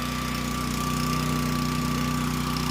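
A portable generator, just started and throttled up during a power outage, runs with a steady, close engine chug and a constant droning hum, with no voices.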